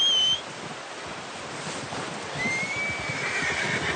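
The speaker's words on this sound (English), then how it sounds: "Here comes our horse," A horse in the video game Red Dead Redemption 2 whinnies in a short, loud burst at the start, followed by soft outdoor ambience, wind and faint hoof movement.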